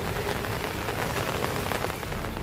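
Heavy monsoon rain in Surat, Gujarat, a dense, steady downpour hissing and pattering on surfaces, loud and close, continuous with no voices.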